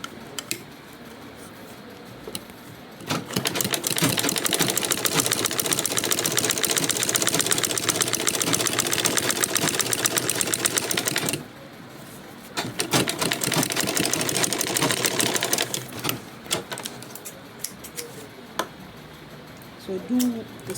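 A sewing machine top stitches a fashion tote bag, whirring steadily and rapidly in two long runs, close and fairly loud, with quieter handling noise between and after.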